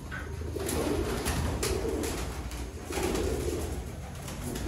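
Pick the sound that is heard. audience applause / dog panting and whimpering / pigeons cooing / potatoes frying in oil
pigeons cooing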